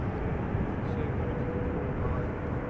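Boeing 777 departing runway 24 at Amsterdam Schiphol, a steady broad low jet engine roar heard from a distance, constant in level throughout.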